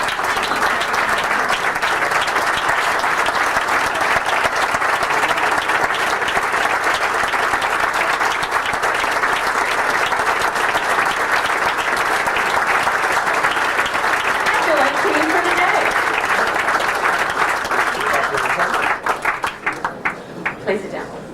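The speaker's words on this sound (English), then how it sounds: "would you all stand and give Marianne a very good hand of applause?" A standing dinner audience at a squash doubles event gives loud sustained applause, a thick continuous roar of many hands that runs about twenty seconds before thinning into scattered claps.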